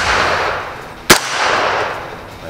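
A single sharp, loud gunshot cracks out midway through tactical shooting training, cutting through steady outdoor background noise.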